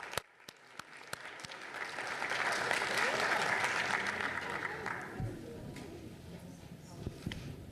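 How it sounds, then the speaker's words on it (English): An audience at a city commission meeting claps in a sustained round of applause that swells and then fades, leaving a quieter room with a few scattered knocks and shuffles. "Please join me in giving her a round of applause"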